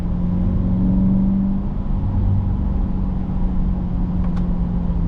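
A 2024 Chevrolet Corvette C8 accelerating hard, its engine note droning loud and steady with rising tones throughout, heard close from inside the car with no talking.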